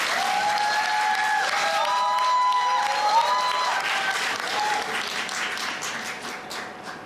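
Steady applause from an audience at a sales case presentation contest fills the room, with a continuous wash of clapping and an electronic tone sounding over it.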